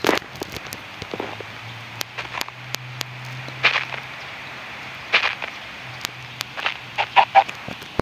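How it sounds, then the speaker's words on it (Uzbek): Chicken clucks from the Minecraft One Block video game come in short scattered bursts. They sound over a soft steady background hum, with no talking. "Yana bitta tovuq."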